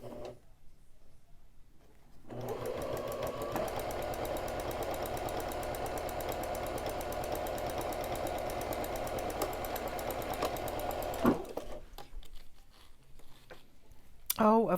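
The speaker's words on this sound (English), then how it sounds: "and then sew down that side." A home sewing machine stitches down the side of a cloth face mask, a close, steady whirring run of about nine seconds that stops abruptly, followed by faint clicks and handling noise.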